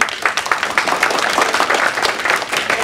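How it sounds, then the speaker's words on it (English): A crowd at an evening lecture event breaks into dense, steady applause, loud and continuous throughout with no speech on top. "I would like to ask every Filipino Americans here to actually applaud on that one and congratulate you."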